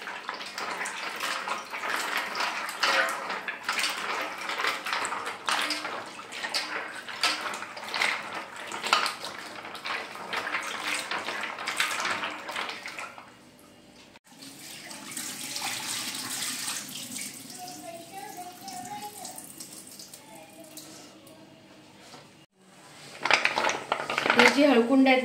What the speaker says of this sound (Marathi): हे जी हळकुंड आहेत ना, आता स्वच्छ धुवून झालेत.